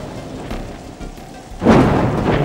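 Thunder rumbles over steady rainfall, a low roll that swells into a louder, nearer crack and boom midway before holding as a heavy rumble.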